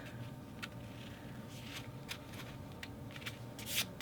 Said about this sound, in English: I'm going to just cut this rather than trying to kind of tear it with the tip of my scissors.